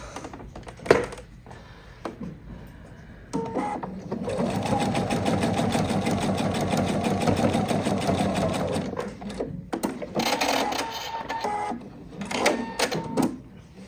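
A domestic sewing machine fitted with a twin needle stitches two parallel rows. A short burst is followed by a long steady run of rapid mechanical chatter, a brief pause, then another shorter run, close and clear with no speech.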